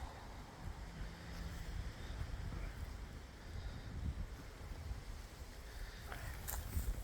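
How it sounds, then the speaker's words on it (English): Strong wind gusts through a garden during a cold front, a low rumbling buffet on the microphone that surges and eases, fairly faint overall, with a few light rustles and knocks. "that wind is kicking"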